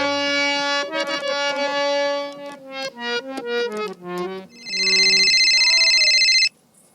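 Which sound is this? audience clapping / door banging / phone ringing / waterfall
phone ringing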